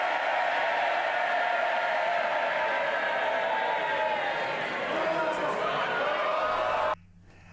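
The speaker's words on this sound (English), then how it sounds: "did you hear that cheer?" MPs in parliament cheer and shout loudly for several seconds, a sustained roar of voices and whoops that cuts off abruptly near the end.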